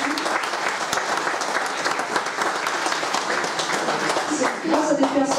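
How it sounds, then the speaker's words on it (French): Audience applause at a political campaign meeting fills the clip with loud, steady clapping from a large crowd, sustained throughout and swelling slightly near the end. "levez-vous Mme Pellegrini, qu'on vous applaudisse, parce que c'est grâce à vous."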